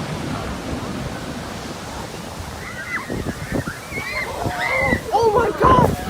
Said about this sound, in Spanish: el mar se contrae y saca unas olas que arrasan con todo lo que ve